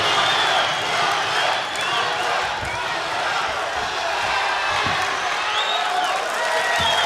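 A large crowd roars and cheers continuously at a Jiu-Jitsu match between Ryron Gracie and Andre Galvão, a dense, steady wall of noise with scattered shouts, and commentators talking over it.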